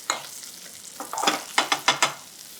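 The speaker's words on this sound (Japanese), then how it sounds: "このバターをね、フランスのシェフは必ずアロゼね、こうやってじっくりと中火で火を通していきます。" Skate wing fries in butter over medium heat in a pan while being basted, giving soft sizzling and a series of sharp spoon scrapes and clinks, close and distinct, with no talk.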